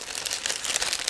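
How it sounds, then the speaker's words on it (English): Crinkling and tearing of a plastic bag being ripped open by hand, holding plastic model kit sprues, with a steady run of close, crackly rustles and no talking. "so I will just tear it apart. And let's hope that it won't, let's say, tear the whole plastic bag."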